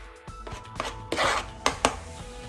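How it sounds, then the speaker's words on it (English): Knife chopping cooked chicken on a board for crunchy chicken tacos, a few separate close chops standing out, with quieter cutting and scraping between them. "we're gonna just start chopping it up"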